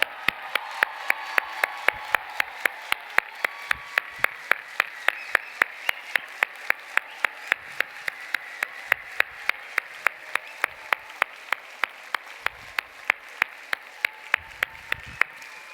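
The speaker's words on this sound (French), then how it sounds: "je voudrais les demander de les applaudir bien fort parce qu'ils le méritent vraiment" Graduation ceremony audience applauding the graduates' families, a steady, dense wash of many hands clapping at close range, with sharp individual claps standing out throughout and no voices on top.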